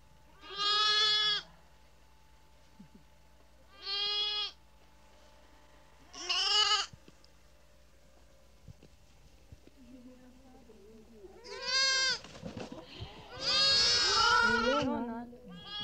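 Sheep on Navajo grazing land bleating in a scattered rhythm, about five separate cries, some near and loud and others softer, over a quiet background, with a brief low murmur partway through.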